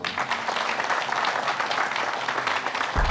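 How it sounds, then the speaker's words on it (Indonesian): Studio audience applause for guest Chand Kelvin on a mystical talk show, dense continuous clapping that ends abruptly near the close. "Tepuk tangan buat Chand Kelvin"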